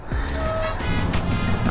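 Passing car traffic alongside a 6000 W Razor electric bike riding at full throttle around 40 mph, a steady broadband road and wind roar held close throughout, with a brief tonal whine partway through.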